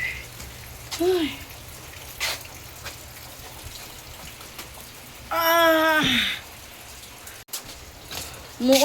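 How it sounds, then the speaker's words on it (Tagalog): Warm rain falls in Tacloban City as a steady, moderate patter. Brief tonal calls and a louder burst around the middle cut through it. "Umuulan."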